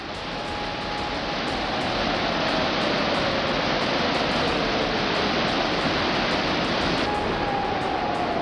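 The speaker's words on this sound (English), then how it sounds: "The Sochi River swells and flows rapidly, carrying a strong sense of pressure through the environment." The swollen Sochi River rushes past in full flood, a loud, continuous broadband roar of fast water that builds slightly at the start and then holds steady, close and unbroken, with no voices.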